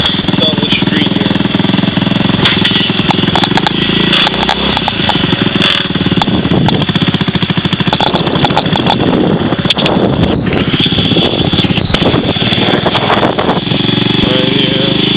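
A Honda S90 motorcycle rides down a street in Oahu, Hawaii, its small engine buzzing loud and continuous with heavy wind rumble throughout.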